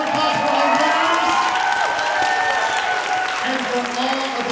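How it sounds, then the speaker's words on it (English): Steady crowd applause fills a theatre, with cheering and some shouts mixed in, saluting the winners of a Shakespeare monologue and scene contest. It stays loud and continuous throughout. "Another round of applause for our winners"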